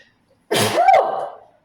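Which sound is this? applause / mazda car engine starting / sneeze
sneeze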